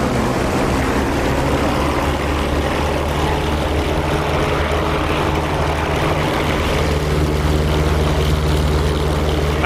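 Propeller engine of a P-47 Thunderbolt fighter in DCS World roaring steadily at takeoff power, a loud continuous low drone that holds throughout with no talk.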